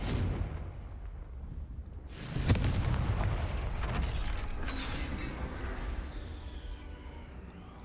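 A Confringo fire spell blast from Hogwarts Legacy, cast inside a dungeon: a sudden loud burst with a crackling, rumbling tail and creaking mechanical sounds that fade over several seconds.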